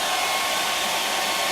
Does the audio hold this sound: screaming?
no